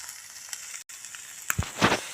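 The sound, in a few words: fish frying in a pan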